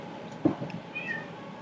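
A pet cat meows once, close and fairly clear, with faint room noise around it.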